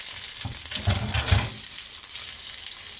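Garlic and onion frying in a hot pan, a steady sizzling hiss with a brief surge of crackling as the ingredients go in, continuous and close with no talking.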